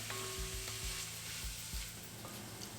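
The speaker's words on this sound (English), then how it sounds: "Cook the onions till they soften up" Onions fry in a pan for homemade dal makhani, giving a soft, steady sizzle with a few low knocks and stirring taps. The sound is quiet and continuous, with no one talking.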